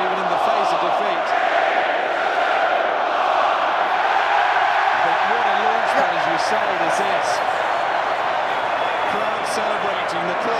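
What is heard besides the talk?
rugby stadium crowd cheering and celebrating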